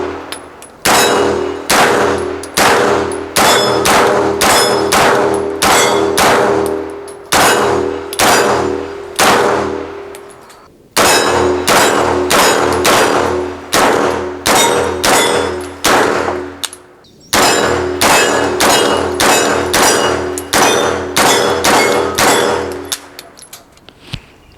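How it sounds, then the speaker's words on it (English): A 9mm pistol caliber carbine firing Mills ammunition at steel targets: rapid strings of loud shots, each followed by a ringing metallic clang, in several bursts with short pauses between. "So let's shoot some steel."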